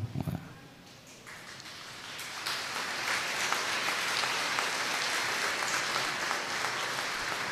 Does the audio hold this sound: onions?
no